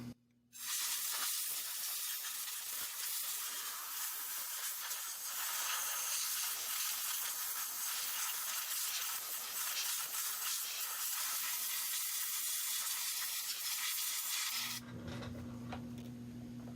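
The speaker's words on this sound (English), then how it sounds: "what we use is shop air from an air compressor" A loud, steady blast of compressed shop air from a blowgun hisses continuously for several seconds, clearing dust from inside a vintage Manning Bowman Model 085005 8-inch fan motor, then cuts off abruptly, leaving a quieter hum.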